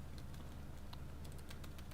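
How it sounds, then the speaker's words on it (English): Keys being tested on a MacBook Air A1466 laptop keyboard during repair work, giving a few sparse, light clicks over a steady low hum, with no voices. "the one key is definitely working here, so the keys are working fine."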